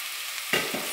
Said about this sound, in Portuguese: fritando, dando uma boa refogada